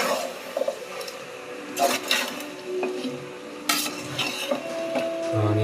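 Chicken being stirred in a cooking pot, with scraping and clattering of a utensil against the metal in irregular bursts, moderately close, with a faint hum underneath.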